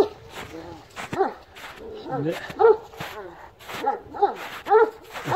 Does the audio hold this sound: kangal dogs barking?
yes